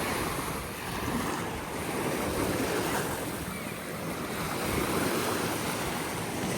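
Ocean waves washing onto a busy Miami beach, a continuous broad roar of surf with gentle swells and some wind rumble against the microphone, no voices.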